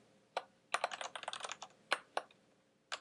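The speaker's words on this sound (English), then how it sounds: "notice how I can just keep typing and typing and typing" Rapid typing on a computer keyboard, close and crisp, with a dense flurry of keystrokes in the middle framed by a few sharper isolated key presses before and after, no voices.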